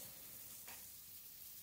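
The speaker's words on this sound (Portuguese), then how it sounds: "joga essa cebola no bacon, que tá fritando aqui" Bacon frying in a pan gives a faint, steady sizzle with a quick, brighter hiss of stirring midway, quiet and close with no talking.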